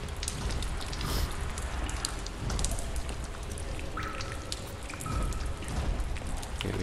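Steady rain falls in the video game Lies of P, a dense, fairly quiet patter of drops with scattered drips and splashes, continuous throughout with no voices.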